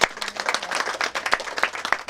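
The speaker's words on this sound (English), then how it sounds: "Let's give her another clap." An audience at a business talk breaks into lively applause, many hands clapping together in a close, continuous patter that rises and falls over a couple of seconds.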